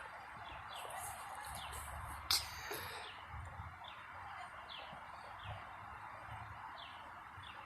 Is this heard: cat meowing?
no